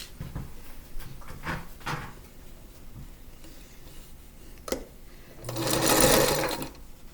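A sewing machine stitching quilt pieces for an Alpine Cross sampler block gives a few short clicks and taps, then a loud, close, steady run of stitching lasting about a second before stopping.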